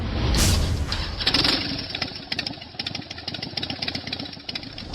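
A Harley-Davidson Milwaukee 8 with an aftermarket cam and a TAB Performance slip-on exhaust idles close by, a loud lumpy rhythmic chug with a few sharper revs near the start.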